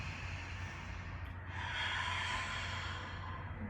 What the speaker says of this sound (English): You can take an inhale through the nose and an exhale out the mouth